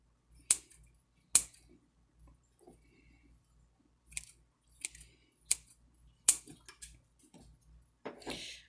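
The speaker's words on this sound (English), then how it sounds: "I'm just going to chop it up a little bit with scissors if it's big." Scissors snip through leftover fruit pulp in a kitchen, several sharp crisp cuts spaced irregularly with soft squishy crunches between them, close and quiet with no talking.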